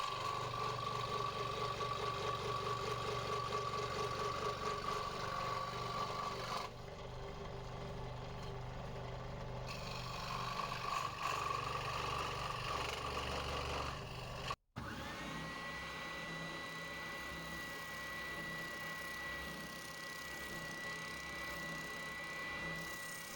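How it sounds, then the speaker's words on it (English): A scroll saw and a spindle sander shape a wooden pike lure body, giving a steady loud mechanical whir that shifts in tone partway through, with a brief sharp break before a higher-pitched spinning motor continues alone. "I use the scroll saw and the spindle sander to give the wood its final shape."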